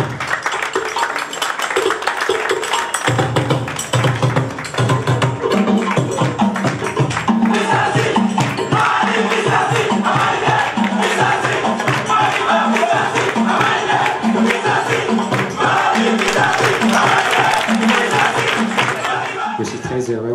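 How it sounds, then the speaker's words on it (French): Audience applause at the Malijama awards ceremony in Mali, loud sustained clapping and crowd noise that carries on throughout, mixed with busy background sound and a music-like rhythmic bed. "on applaudit encore une fois Monsieur Mossadegh Bali."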